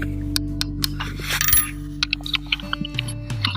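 The turret on the optic of a .223 rifle is dialed through a series of small, sharp metallic clicks, close up, over a steady low hum with faint tones.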